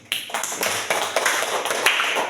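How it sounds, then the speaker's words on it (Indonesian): A church congregation claps for God during an evening prayer service, a quick run of distinct, fairly close claps in a steady rhythm, with no voices over it. "Tepuk tangan buat Tuhan"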